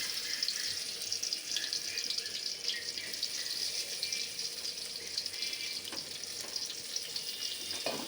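Dried chapa shutki fish is rinsed under a running kitchen tap, a steady splashing water hiss with light handling noises throughout, fairly quiet and with no talk.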